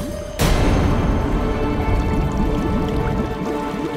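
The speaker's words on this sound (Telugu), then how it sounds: "అలా చూడండి, అక్కడ అక్కడ బుడగలు వస్తున్నాయి" Water bubbling, starting with a sudden splash-like burst and then settling into a steady, busy stream of close gurgling and popping, with no speech.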